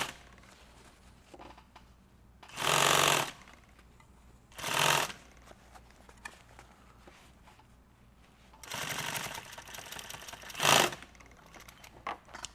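Sewing machine stitching a nylon tactical bag, with several short loud bursts of running stitches separated by quieter handling and shuffling of fabric, close by, and no talking.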